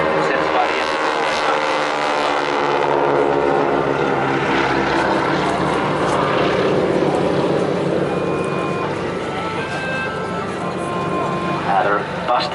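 A Boeing Stearman propeller training biplane drones overhead at an air festival, its loud steady engine and propeller roar sustained throughout under continuous commentary from someone speaking.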